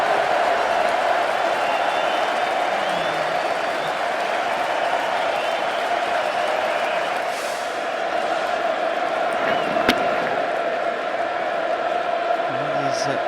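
A cricket crowd at the Oval during a 2023 England versus Australia Test keeps up a steady wash of cheering and applause, heard from a distance beneath ongoing commentary.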